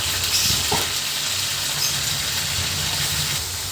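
Meat frying in hot oil with onion and garlic, a loud steady close sizzle with brief stirring scrapes and no talking.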